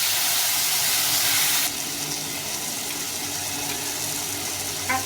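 A splash of water goes into a hot pan of frying okra with chili powder, making a loud, close hiss that drops abruptly after a moment into a softer, steady sizzle with faint clinks near the end.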